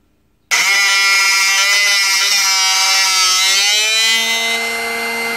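A Drill Doctor X750 sharpener starts abruptly and runs with a loud, steady, high-pitched whine as a drill bit is rotated against its grinding wheel, the tone shifting slightly lower near the end.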